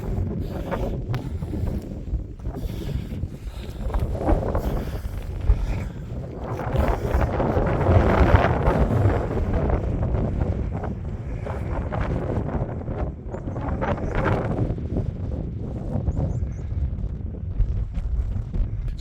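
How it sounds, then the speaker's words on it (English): Wind gusting steadily across an open moor near the Oxstones trig point, a loud continuous buffeting rumble that swells in the middle and stays strong throughout, with no voices. "Getting a bit windy now"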